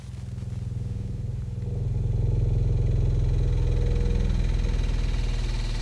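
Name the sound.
dry ice pressed on metal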